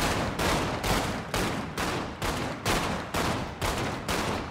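Gunfire in GTA 5 roleplay: about nine evenly spaced, loud bursts of shots, each lasting roughly half a second, repeating in a steady rhythm with no talk.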